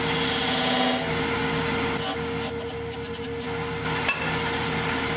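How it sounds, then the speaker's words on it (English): A skew chisel held vertically scores 1/16-inch-deep bands into turned whiskey barrel wood on a lathe, a steady close whirring hum with a rough scraping texture and one sharp knock near the end. "I'm scoring these about 1/16 inch deep"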